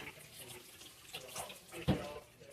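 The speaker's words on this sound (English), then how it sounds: "Rinse my hands real quick here." Hands rinsed under a running kitchen tap, a short close wash of splashing water with a brief louder gush near the end, fairly quiet and free of talk.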